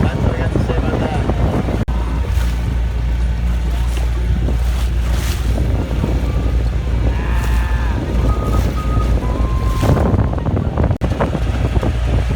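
A Skipper 20 sailboat, S/V Panache, motor sails through water in the Florida Keys, with a steady engine drone mixed with rushing water, waves and heavy wind buffeting close on the microphone throughout.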